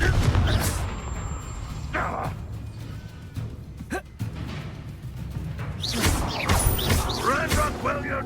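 A Confringo fire spell fires off in a Harry Potter video game, giving sharp explosive bursts and crashing impacts amid game effects and ambient rumble, with brief voices heard.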